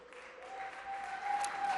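Audience applause at a state governor's budget address, a steady wash of clapping that grows slightly over under two seconds, with a faint sustained tone running through it.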